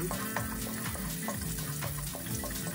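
Garlic browning in a pan for pancit broth, giving a steady, continuous frying sizzle with a dense hiss and faint clinks, close and even throughout.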